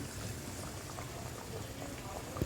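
A fish curry of bata fish with ridge gourd, potato and tomato simmers in a pot, bubbling softly and steadily at low level, with a small clink near the end. There are no voices.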